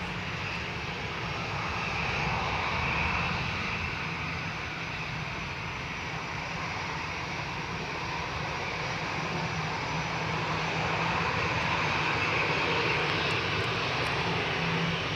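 Airliner engines arriving at Manchester Airport on a stormy day, a steady broad roar that stays loud and close throughout with no talk.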